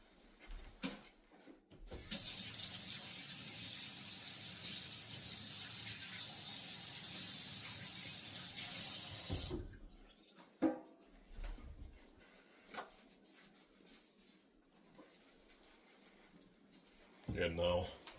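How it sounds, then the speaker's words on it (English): Water runs from a kitchen tap as hands are washed, a steady hiss lasting about seven seconds, with quieter clatter and movement before and after. "I need to wash my hands"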